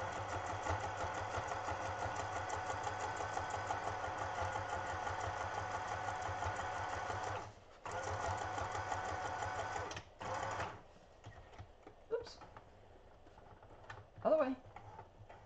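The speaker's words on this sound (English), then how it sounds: "So now we've got a nice little zigzag stitch all the way around." A sewing machine runs a zigzag stitch around craft fabric in a steady, fast mechanical whir. It pauses a couple of times, then gives way to quieter handling clicks and a brief voice near the end.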